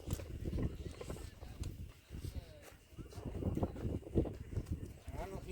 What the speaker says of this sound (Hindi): बहुत ही काफ़ी खूबसूरत घोड़ा है दोस्तों।